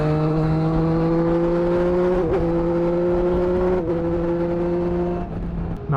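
A 2021 Triumph Street Triple RS motorcycle engine idles and revs steadily up close, its droning tone rising and dipping slightly a couple of times before easing off.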